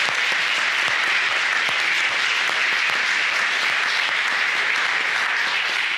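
Congregation in a church service applauding with a dense, even wash of clapping that holds steady at full volume throughout.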